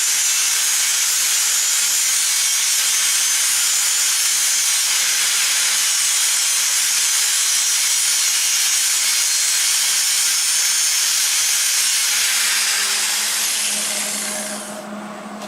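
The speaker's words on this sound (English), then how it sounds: "I have to grind it off." Handheld grinder grinding excess flux core weld off the left spindle of a John Deere 318 lawn tractor, a loud, continuous harsh hiss and scrape lasting about fifteen seconds, tapering slightly at the end, with no talking.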